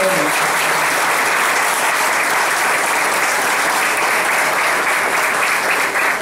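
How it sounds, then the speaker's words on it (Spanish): Crowd applauding the mayor at a chapel inauguration in Punta Torrecilla, Los Mameyes: loud, sustained clapping from many people that fills the whole stretch without pause. "pido un fuerte aplauso para el alcalde de hoy"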